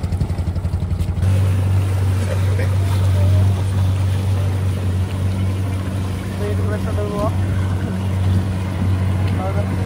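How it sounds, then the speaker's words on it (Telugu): Motorboats on the river at the Maha Kumbh Mela 2025 give a steady, loud engine drone with low rumbling throughout, close by and mixed with faint crowd background. "వీళ్ళు మిషన్ బోట్లు అయితే పోతున్నారు."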